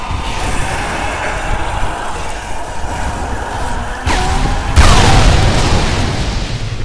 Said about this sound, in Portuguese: Essa explosão toda aí, tinha que mandar ele pro espaço.